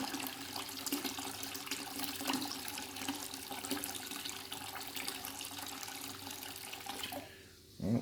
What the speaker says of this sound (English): I'm actually going to just tip a bit of the beer off, just to lose some of that liquid